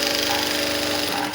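A sewing machine runs steadily, stitching the waistband of a girl's school uniform pants, a close continuous mechanical whir heard alone for the whole short stretch.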